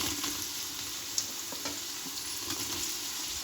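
Mushrooms going into a pan of frying onions and kasuri methi for Karnataka-style mushroom donne biryani, a soft continuous sizzle broken by a few faint clinks and stirring scrapes.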